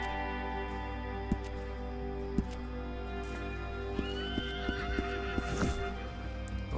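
In Red Dead Redemption 2 Online, the horses pulling a hunting wagon arrive with a few distinct hoof clops and a whinny, faint over a steady game backdrop, with no talking.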